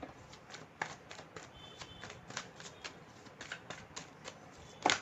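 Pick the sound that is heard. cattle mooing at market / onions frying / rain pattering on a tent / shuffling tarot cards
shuffling tarot cards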